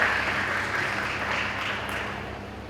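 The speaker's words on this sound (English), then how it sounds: "Please give a big round of applause for the valuable discussions and insights." Audience at a global sustainability conference clapping in a steady, moderately loud round of applause that slowly tapers.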